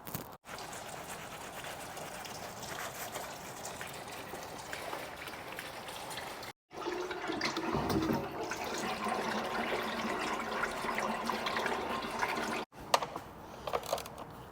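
Engine oil draining from a dirty diesel car during a service, a continuous liquid trickle and patter heard fairly faint and close, broken by short cuts, with no talk.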